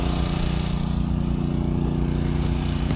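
A powerful tractor engine idles steadily with its PTO spinning, a loud, continuous low rumble with a regular throbbing pulse that holds unchanged throughout, close by and with no voices.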